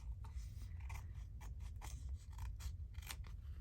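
Scissors snip repeatedly through paper at a craft table, a run of close, crisp cuts in quick succession over a steady low background hum.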